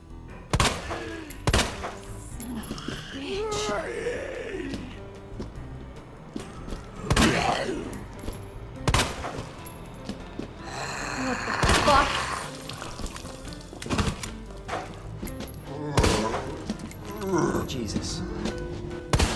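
Gunshots fired at zombies in Resident Evil 3 ring out as sharp, separate bangs and thuds spread across the stretch, mixed with game effects and heard under a talking voice.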